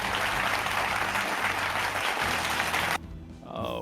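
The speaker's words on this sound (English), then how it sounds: "courtesy claps" Polite courtesy applause from a crowd in the video game Dream Daddy: a steady, dense patter of clapping for about three seconds that cuts off abruptly, leaving quieter background tones.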